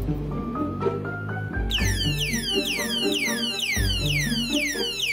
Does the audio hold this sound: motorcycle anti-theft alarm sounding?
yes